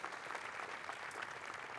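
Faint, steady applause from an audience at an IoT solutions awards ceremony, a dense even patter of many hands that carries on throughout.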